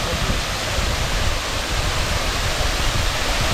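A water ride boat plunges down into water, making a steady, loud, close rushing and splashing roar that holds evenly for the whole stretch.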